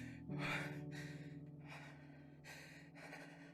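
Deep, raspy breathing of a cartoon character, slow rhythmic inhales and exhales in four or five heavy wheezing pulses over a low hum, heard alone.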